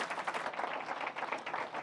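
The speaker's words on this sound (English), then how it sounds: "Will you please give a round of applause for our panelists tonight?" An audience at a dinner panel discussion applauds the panelists with a brief, soft patter of many hands clapping together at a moderate distance.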